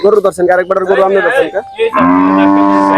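A cow on a farm gives a long, loud moo close by, the low drawn-out call rising and holding for a couple of seconds after some brief voices at the start.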